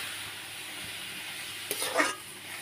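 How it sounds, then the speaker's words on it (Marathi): Grated carrots are stirred and flipped in ghee in a pan for carrot halwa, with a faint, steady sizzle underneath and a brief scraping, rustling burst of the spatula near the end. "इथे मी टाकून घेतले, असे पलटून घेते त्याला"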